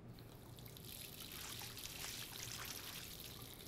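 Steady, faint stream of water running from a bathroom tap in the video game Life Is Strange, an even hiss that carries on unbroken with no talking over it.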